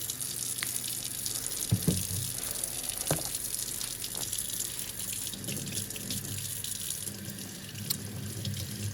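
Tap water running steadily over salt-cured beef eye of round being rinsed in a sink, a constant hiss with soft splashes and a few knocks, moderately close, no voices.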